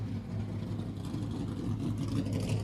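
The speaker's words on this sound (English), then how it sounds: "Kyle Larson's car is making all the noise here" A NASCAR Xfinity Series race car idles in the garage at Chicago, a steady low engine rumble with a faint rise near the end.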